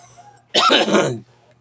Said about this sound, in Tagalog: Ay, yung ubo na to.